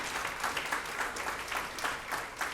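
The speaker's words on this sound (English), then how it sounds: "Let's give another round of applause to our leader," A crowd applauds a labor leader at a New York City Central Labor Council Labor Day parade event, with steady, dense clapping that holds evenly for the full stretch and no talk over it.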